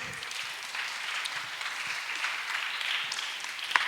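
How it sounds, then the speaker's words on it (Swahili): A church audience applauds Pastor Restituta Theobald with a dense, continuous wash of clapping that holds steady throughout, with no clear speech on top. "Makofi kwake."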